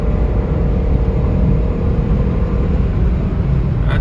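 A Scion tC's engine while driving at highway speed and downshifting, a loud, steady low rumble with road noise filling the cabin and no voices over it.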